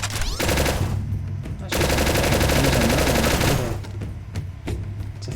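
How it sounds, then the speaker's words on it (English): Sustained automatic gunfire in Ancient Warfare 3 comes as loud rapid volleys, then fades into scattered single shots beneath a speaking voice. "Look at how accurately that guy's shooting me."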